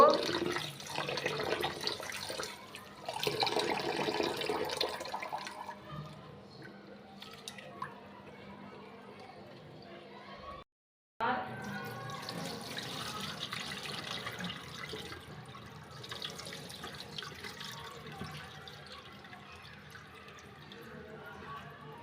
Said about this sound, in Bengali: তো যে চালগুলো খুদগুলো সুন্দর করে ধুয়ে নিব।